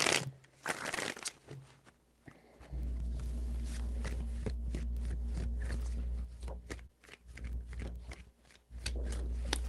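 A tarot deck is shuffled by hand in a series of dry papery riffles and taps, close and fairly quiet, with a low background hum beneath.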